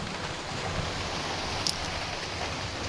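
Heavy rain falls steadily outside a home with a leaking roof during a big storm, a dense, even hiss that stays constant throughout with no voices.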